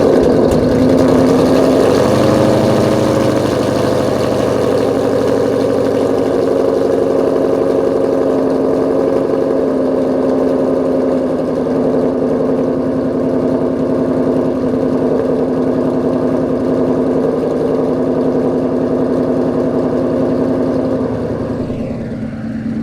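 A 2011 Mustang GT V8 fitted with JBA long tube headers fires up from cold and settles into a loud, steady, rumbling idle that runs unbroken for over twenty seconds, with no talking.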